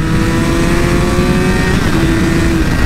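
A Honda CBR1000 Repsol sport motorcycle engine revs close by, a loud continuous roar whose pitch holds and rises slightly, with no talk over it.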